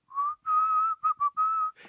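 A person whistles a melodic tune in several sustained phrases broken by short gaps, close and clear with no talking over it.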